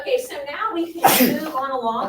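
A sharp sneeze bursts out in the middle of a person's speech, loud and close, as the talking carries on right after.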